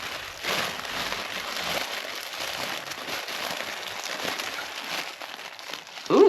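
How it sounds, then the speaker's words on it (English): Close, continuous crinkling of plastic packaging around yarn, irregular and fairly quiet, with no talking. "Sorry about all this rustling."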